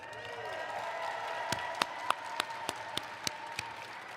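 Scattered sharp claps ring out from an audience at the 2025 Rube Goldberg Machine Contest World Championship over a low hall murmur, a handful of distinct hand claps spaced about a third of a second apart.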